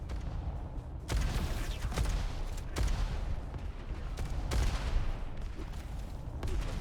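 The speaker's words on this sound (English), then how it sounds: "rockets coming out" Rockets firing in the arena shooter Diabotical, with repeated sharp blasts and booming explosions over a dense, continuous rumble of game action.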